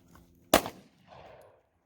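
A single sharp gunshot fired outdoors at a target, loud and close, with a short decaying tail, followed by a faint mid-range rumble or echo.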